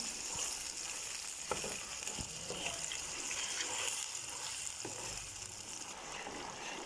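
Spicy spaghetti sauce simmering in a pan, a steady soft sizzle and bubbling with occasional light clicks of stirring, close and quiet, no voices.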